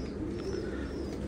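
Soft, low cooing from a pigeon close by, faint against a steady background hum.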